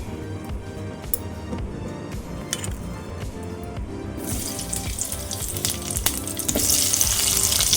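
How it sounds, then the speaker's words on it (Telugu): Dried red chillies and tomatoes fry in hot oil with a dense, crackling sizzle that swells louder and brighter toward the end, with occasional utensil clinks. "ఎండుమిరపకాయలు, టమాటోస్ అంటే ఇవన్నీ నేను ఫ్రై చేసుకుంటాను."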